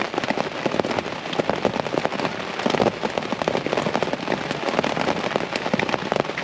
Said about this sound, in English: Get some good rain though.